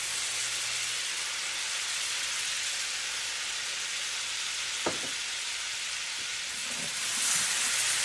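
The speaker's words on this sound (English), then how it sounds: "We're going to start letting these onions cook down." Onions cooking in a stick of butter in a pan give a steady, soft sizzle throughout, with a faint clink near the middle and no talking.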